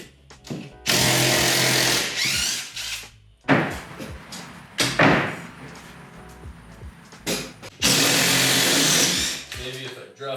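A power drill whirs in several bursts of a couple of seconds each, undoing screws while a garage is torn down to make a woodshop, with creaks and knocks between the runs and someone talking.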